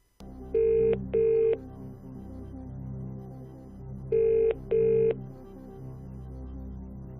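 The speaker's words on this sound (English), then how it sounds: "Okay, you want to phone a friend. Now, let's call them" Electronic telephone ring from the Who Wants to Be a Millionaire PS1 video game: two pairs of short, identical rings, a quick double burst near the start and another a few seconds later, over a steady low musical bed with no talking.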